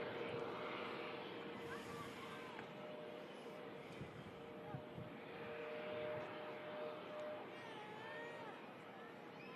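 A Virgin airliner taxiing toward Terminal 2 gives a steady, distant jet engine rumble and whine, broad and continuous, with a faint voice talking over it.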